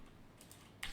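Faint, scattered keystrokes on a computer keyboard, typing a message in Discord, with a few soft clicks and a slightly louder burst near the end against a quiet room.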